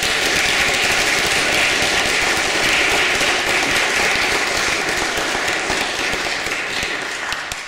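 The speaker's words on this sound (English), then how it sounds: "I think Harry and Mary deserve another round of applause." An audience at a church concert claps in a long, steady round of applause, dense and even throughout, gradually thinning toward the close.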